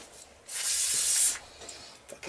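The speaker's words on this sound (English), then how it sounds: "it's good old STP carb spray" STP carb cleaner sprays onto grimy motorcycle rear brake parts from an XS650 in one close, loud hissing burst lasting just under a second, followed by faint rubbing and handling sounds.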